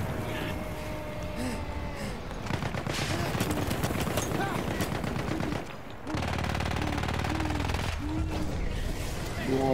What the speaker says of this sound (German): Kaum bin ich hier oben, werde ich schon wieder schwer beschossen von allen Richtungen.